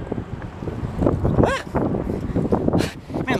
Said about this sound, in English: It is sure windy in Seattle.